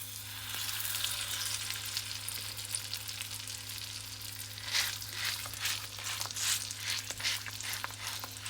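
Wheat and coconut flatbread dough cooking in a pan, a steady, soft sizzle with faint crackles that runs throughout alongside a low, constant hum, and no voices.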